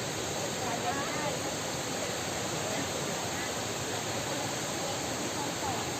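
Steady broadband roar of a tiered, multi-level waterfall, constant and fairly loud throughout with no breaks.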